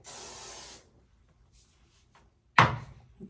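A can of hairspray lets out one close, hissing spray burst lasting under a second, followed by near silence with faint rustles and a sharp handling knock.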